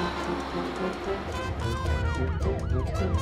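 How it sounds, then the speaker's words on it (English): A police car siren wails in rising and falling sweeps over engine rumble, growing louder and closer over a few seconds. "Police car."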